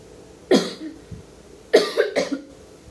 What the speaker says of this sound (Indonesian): Mohon maaf karena batuk.